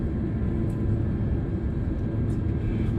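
A fixed-wing airliner that has just landed at Izumo airport in strong wind rolls along with a steady, broad engine rumble, heard from inside the cabin, continuous and fairly loud, with no voices.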